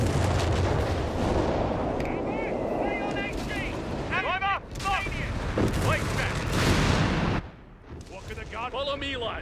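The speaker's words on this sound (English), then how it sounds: "Nice artillery." Artillery shelling and gunfire in the World War II strategy game Company of Heroes 3, heavy booming blasts rolling under a dense battle mix of shots and unit chatter, with voices talking over the din.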